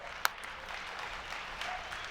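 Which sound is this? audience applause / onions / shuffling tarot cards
audience applause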